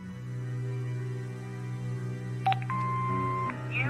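An answering machine in the video game Broken Sword 5: The Serpent's Curse hums, then gives a short chirp and a long steady beep before message playback, clear and close.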